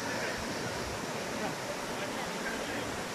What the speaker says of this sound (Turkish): Horma Kanyonu sonunda Ilıca Şelalesi var.